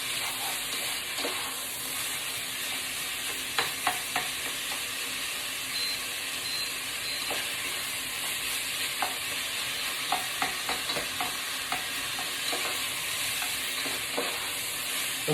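Fresh minced meat for lasagne frying in a pan: a constant bright sizzle runs throughout, broken by irregular scraping and clacking strokes as it is stirred, with no voices.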